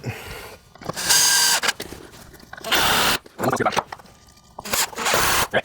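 Power drill driving screws into fiber cement trim board, heard as several loud whirring bursts of a few seconds each, separated by short pauses and clicks, close by.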